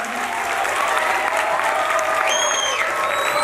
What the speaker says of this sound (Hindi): मैं चाहूँगा कि बहुत सी तालियों में इन असातिज़ा का इस्तकबाल किया जाए